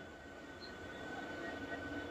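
An EMU local train rumbles steadily close by as it arrives at a platform at Santragachi station, a continuous low mechanical roar with faint high metallic whine, no voices present.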